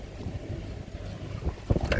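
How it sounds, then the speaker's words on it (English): Gusty outdoor wind buffets the microphone beside a koi pond, a steady rushing roar with rougher bursts toward the end, no voices. "with the way the wind is at the moment, blowing shit everywhere"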